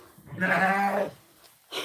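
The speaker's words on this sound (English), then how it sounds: "Yeah, the goats have had to come in twice today" A goat gives one long, close bleat lasting about half a second, followed by the start of a second call, with no one talking.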